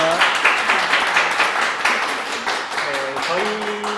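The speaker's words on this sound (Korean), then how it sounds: "두 분께도 큰 박수 한번 부탁드리겠습니다." Audience applause at a live Korean workplace talk event, a dense, steady clapping wash that fills the stretch while a voice speaks over it.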